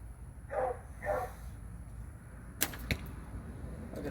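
Arrow shot from a 60 lb Ringing Rock bow, a sharp string snap followed quickly by a second crack of impact, close and brief against a quiet outdoor background with a dog barking twice earlier.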